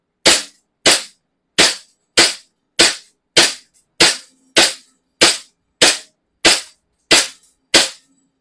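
Thirteen sharp, evenly spaced gunshots from a toy or airsoft-style rifle being test-fired during a product review, each a crisp crack with a quick decaying tail, loud and close with no talking.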